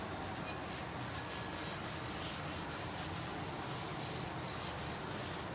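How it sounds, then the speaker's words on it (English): A cast iron Dutch oven is rubbed down across its bottom, giving a continuous faint scratchy friction with soft rhythmic strokes, steady throughout. "Rub that whole bottom,"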